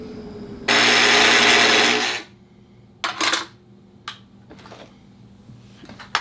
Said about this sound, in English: That's the demagnetizer.